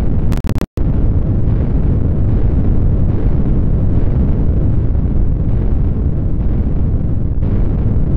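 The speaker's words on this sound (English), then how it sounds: "Completely nuke Italy and destroy all the federal forces there" A massive nuclear blast in a strategy video game, a sustained loud roaring rumble lasting several seconds after a brief interruption near the start, with no talk.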